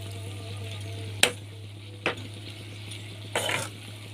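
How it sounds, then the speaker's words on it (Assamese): A spoon stirs and mixes homemade radish pickle with a few sharp scrapes and clinks against the container. The strokes are spaced apart over a low steady hum. "মই এতিয়া এইখিনি ভালদৰে গোটেইখিনি মিক্স কৰি দিম"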